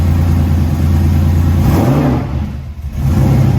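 A Porsche Carrera 3.2 flat-six runs steadily after a spark plug and wire change, a loud close engine drone with a brief dip and recovery in revs midway, no misfire evident and no talking.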